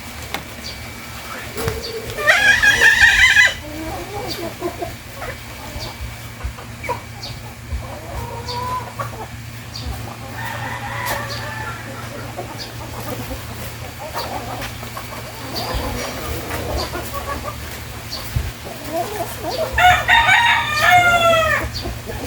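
A rooster crows loudly twice, near the start and again near the end, with laying hens clucking steadily in between.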